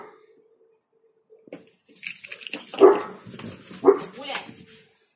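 A dog barks a couple of times at mid distance inside a home, the sharp bursts falling among people talking, rustling and a pet monkey's activity.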